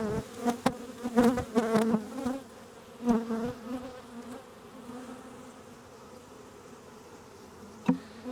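Honeybees buzzing around an open hive box while a nuc is installed, a close droning hum with louder swells as bees fly near, then a softer steady buzz.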